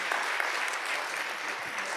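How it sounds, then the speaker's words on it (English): Steady audience applause at a geoeconomics summit for two panelists, a dense, continuous wash of clapping hands with no talk over it. "Please join me to give the round of applause for the two distinguished individuals,"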